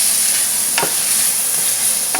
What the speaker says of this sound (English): And I'm going to add in onions and cook them